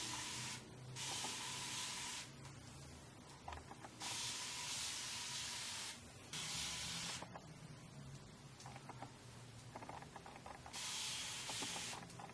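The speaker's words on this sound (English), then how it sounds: "go ahead and start spraying the hair with" A spray bottle misting plain water onto a long curly wig, several separate close hissing bursts of one to two seconds each with short gaps between them and no talking.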